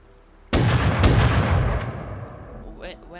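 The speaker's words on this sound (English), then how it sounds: "shotgun raiding in the distance. Two people shotgun raiding." A loud boom of gunfire from a raid in the video game Rust hits suddenly, with a second shot following and a long rumbling decay, then a voice speaks faintly near the end.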